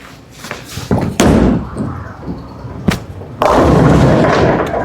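A urethane bowling ball strikes the lane with heavy thuds, then rolls with a rumbling roar that swells loudly toward the end, mixed with a few sharp knocks.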